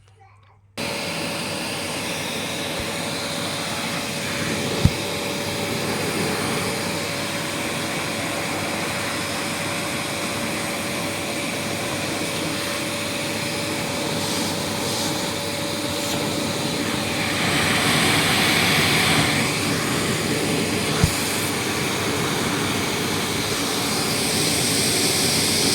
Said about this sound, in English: Now we have a vacuum cleaner here.